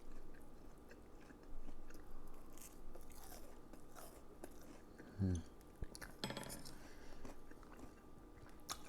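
Crispy pork cutlet (donkatsu) delivered from a restaurant being bitten and chewed close up, a sharp crunch standing out midway amid softer chewing and faint clinks of cutlery, with no talking.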